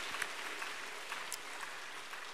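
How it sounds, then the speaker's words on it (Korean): A church congregation at a Sunday morning worship service applauds after a scripture reading, soft diffuse clapping spread through a large room, fairly faint and steady. "우리 하나님께 영광의 박수 드리겠습니다."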